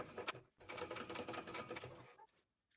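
A sewing machine runs a fast, steady stitching burst while basting fabric pieces together with a narrow seam, close and quiet, stopping briefly and then tapering off with a few light clicks.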